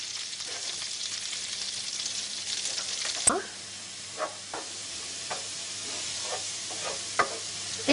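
Shallot and garlic sizzle in melted butter in a hot pan, a steady close crackling hiss broken by a sharp utensil clack and a few softer stirring scrapes.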